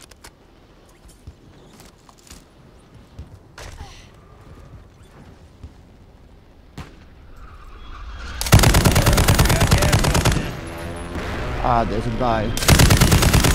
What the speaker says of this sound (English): Oh, somebody's shooting at me.